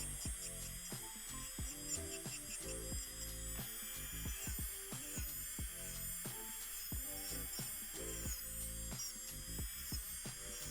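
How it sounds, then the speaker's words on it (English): Electric nail drill with a mandrel sanding band filing acrylic gel nails, a continuous high-pitched motor whine with a rapidly fluttering grinding texture as the band touches the nail, steady and close, no talking. "will the rest come off with my Mandrel bit, with my sanding band?"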